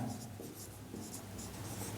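A pen scratches steadily across paper during a math lesson, a faint, continuous scribbling with short stroke-like bursts and no talk over it.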